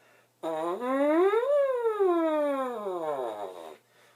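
A continuous buzzy French horn embouchure lip tone, without mouthpiece, sweeps upward, then glides slowly back down in a long siren-like arc, about three seconds, close and steady.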